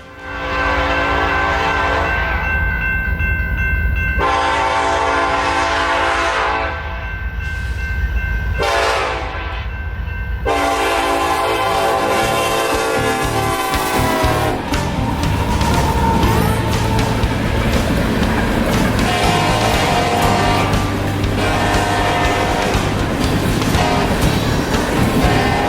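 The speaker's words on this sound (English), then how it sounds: "the first thing that would greet us would be a northbound coal train" A long northbound BNSF coal train rumbles past close by at night in Crowley, Texas, its horn blaring repeatedly at the start, followed by a steady heavy roar of rolling cars.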